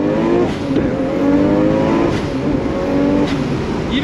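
A Nissan R32 GTR with an HKS 2.8-litre restomod engine accelerates hard in a loud, sustained, close engine note that climbs in pitch across several gear pulls, with no talking over it.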